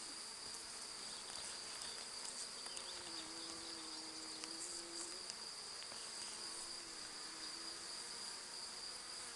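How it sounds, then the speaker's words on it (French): A healthy honeybee colony buzzing at an open hive, a continuous low-level hum of many bees with a steady high insect whine, faint and even, with no talk. "c'est une colonie qui va bien, il y a beaucoup d'abeilles"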